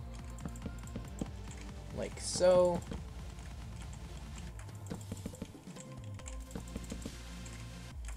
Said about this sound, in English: Sorry if you hear my keyboard just killing itself in the background.